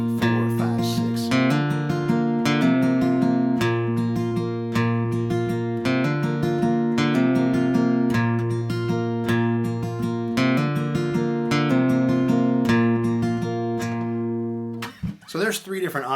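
Acoustic guitar fingerpicks G-based intro chords from a song in a steady six-count pattern, clear and close with ringing notes throughout, then stops near the end with a brief scrape and thump.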